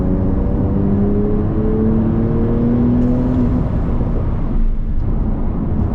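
Porsche 992 Turbo S with a 3.8-litre twin-turbo flat-six making 650 hp, heard from inside as a steady loud engine drone with rising harmonic tones as it accelerates, then easing off.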